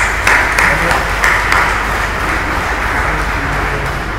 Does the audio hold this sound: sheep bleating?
no